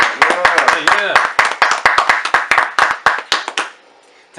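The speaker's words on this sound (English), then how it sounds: "Let's go ahead and clap it up." Several people clap in a hip-hop radio studio, a rapid run of close, sharp claps that go on for several seconds and then stop abruptly, with voices cheering over them.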